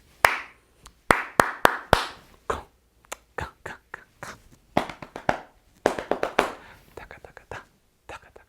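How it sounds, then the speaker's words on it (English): Sharp hand claps ring out in a series of rhythmic patterns during a body percussion warm-up, crisp and close, grouped into short phrases with gaps between them. "I'm going to clap a few different rhythms"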